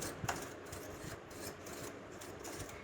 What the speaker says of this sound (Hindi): ये एक सिंपल सा मेहंदी लगाने वाला ब्रश है, पर ये बहुत काम आता है हमें इस मशीन को क्लीन करने में।